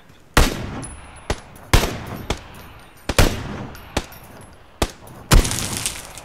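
Gunfire in the video game PUBG: loud, sharp individual shots spaced roughly a second apart, each with a ringing tail, the last one heavier and more crackling.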